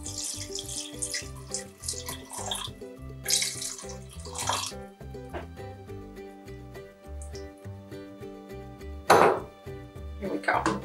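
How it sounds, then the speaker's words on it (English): Tap water running into a pot of turkey stock, a steady splashing stream with occasional clinks of metal, moderately loud and close with no talk. "So we're gonna add a little bit more water."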